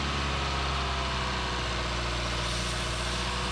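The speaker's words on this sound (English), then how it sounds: "my thumb is covering over it when the engine's revving too high" A Mazda 2.5L SkyActiv-G engine running during a Seafoam treatment, with a steady, loud mechanical hum and drone heard close up, holding even without any clear change in pitch.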